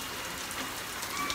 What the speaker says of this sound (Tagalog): Sarap maligo sa ulan mga kaswerte.